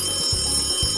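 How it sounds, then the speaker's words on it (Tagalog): A telephone ringing sound effect for a radio prize contest rings in a quick, trilling burst that lasts about a second, loud and alone. "kapag narinig mo na ang mahiwagang kring-kring"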